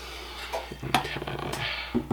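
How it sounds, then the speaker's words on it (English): A utensil scrapes and clinks against a bowl while apple cider donut batter is mixed with egg and butter. The stirring taps are close and irregular, with no talking. "mix everything together here till it's good and combined"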